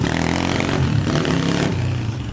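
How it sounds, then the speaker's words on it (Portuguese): A Honda CRF 125 mini dirt bike engine runs close up, still warming and cutting out, giving a loud, steady, rough buzzing drone with a rattling edge and slight surging throughout. "a moto fica cortando, é porque tá esquentando"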